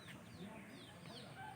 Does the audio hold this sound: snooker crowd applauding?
no